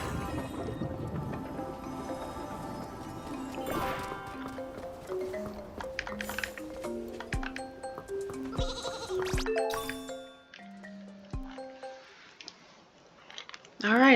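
Sheep bleats from the Infinity Nikki video game ring out in short tonal calls among chiming game music and clip-clop effects, with a voice talking underneath.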